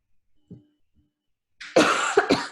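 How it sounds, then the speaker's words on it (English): A person coughs hard twice in quick succession, loud and close, after a couple of faint small sounds in near silence. "Sorry, guys. Coughing."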